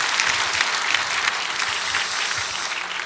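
Applause from a church congregation fills the hall, steady and dense from start to finish with no speech.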